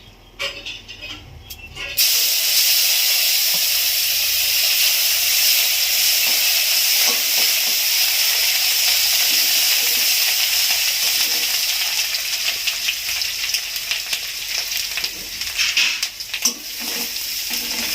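Pieces of pomfret fish fry in a kadai with a loud, steady sizzle that starts suddenly and holds a bright, hissing roar. Occasional faint stirring clicks sound beneath it.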